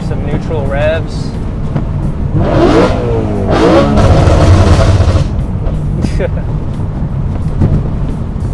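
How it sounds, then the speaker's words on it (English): A modified BMW E93 M3 V8 revving in neutral, several rising and falling throttle blips that climb high and drop back to a loud, steady idle, close by with no talking. "Here's some neutral revs."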